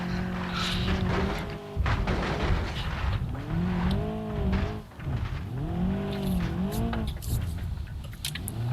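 Badly damaged car in the BeamNG Drive video game, steering broken and smoking, revving and bouncing over potholes, with engine pitch sweeping up and down, clunks and thumps, loud and continuous.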